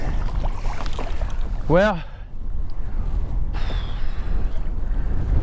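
Strong gusting wind buffets the microphone while out on the water in a Pelican Catch 120 kayak, a loud continuous roar with someone speaking briefly over it.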